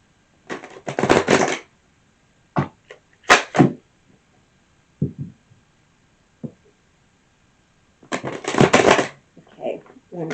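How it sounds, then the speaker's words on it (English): Tarot cards shuffled in several quick, crisp riffling bursts, each lasting about a second, separated by short pauses and closer, sharper taps. "one more shuffle"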